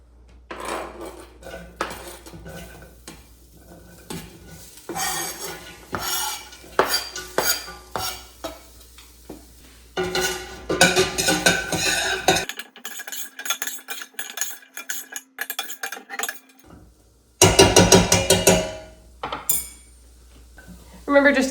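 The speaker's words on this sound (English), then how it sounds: "And we're just cooking our onions until they're translucent." Chopped onions cook in butter in a pot, giving intermittent bursts of soft sizzle and a spoon scraping and knocking against the pot, separated by quiet pauses and a few moments of talk.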